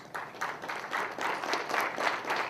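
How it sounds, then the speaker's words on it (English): An audience claps for the judges at a business plan competition, a moderately loud applause that swells in after a brief pause and holds in uneven bursts, with no talking. "So please join with me to give a round of applause for these judges."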